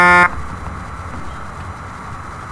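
In Euro Truck Simulator 2, a short, loud Volvo truck horn blast opens, then cuts off into a steady low engine rumble with a faint whine underneath.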